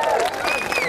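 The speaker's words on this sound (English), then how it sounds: "Can we have a round of applause for him, please?" Brief burst of audience applause and clapping for Brett Kirk, former Sydney Swans champion and co-captain, a dense crowd patter with a faint voice mixed in.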